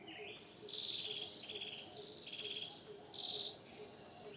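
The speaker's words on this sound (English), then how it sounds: "My favorite birds are singing now, listen." Birds sing outdoors in repeated bright, high whistled phrases, clear and moderately near, over a faint steady hum of insects.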